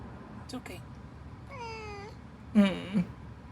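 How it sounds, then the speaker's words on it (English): A cat gives several plaintive meows: two short cries early, one drawn-out wavering meow in the middle, then two more near the end, close and fairly loud over quiet background noise. "listen to the sad meow response he gave to that"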